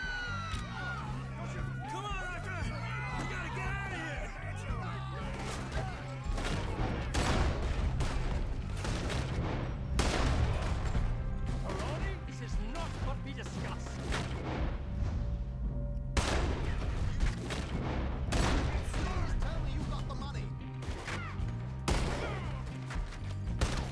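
Gunfire in a Red Dead Redemption 2 shootout, sharp repeated shots and booms scattered across the scene amid game music and background noise, with voices talking over it.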